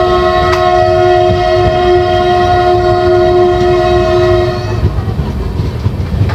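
A train horn blares long and loud at a large railway station, holding steady for several seconds before cutting off and leaving the rumble and clatter of a passing train.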